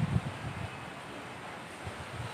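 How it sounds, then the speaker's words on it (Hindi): Strong wind on a rooftop buffets the microphone with a constant rushing roar and a few low gusty thumps. "बड़ी तेज़ हवा चल रही है"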